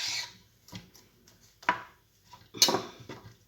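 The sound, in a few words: knife cutting off the ends of an aubergine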